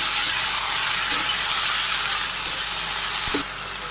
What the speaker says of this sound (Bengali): তো তেলে দিয়ে দিব, সবগুলো সবজি দিয়ে দিলাম, নেড়ে করে নিই।